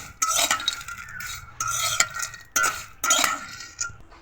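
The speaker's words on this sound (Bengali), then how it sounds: "শুটকি মাছগুলো হালকা ভেজে নিবে" Dried fish being lightly fried in a pan: several separate bursts of spatula stirring and scraping against the metal with faint sizzle between, close and clear, no talking.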